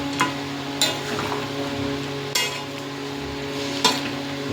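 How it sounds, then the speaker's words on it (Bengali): Mutton curry is being stirred and mixed in a pan, with a low bubbling sizzle underneath and four distinct sharp clinks of the spoon against the pan spaced about a second apart. "আস্তে আস্তে এটাকে ভালো করে মিশিয়ে দিতে হবে"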